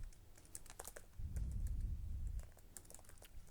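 Typing code on a computer keyboard: quick, irregular key clicks up close, with a brief low rumble partway through and no talking.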